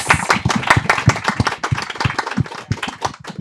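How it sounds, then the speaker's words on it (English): A studio audience on a celebrity talk show gives a round of applause: loud, close, rapid clapping from a few hands that keeps up steadily for several seconds. "can we have a round of applause for her?"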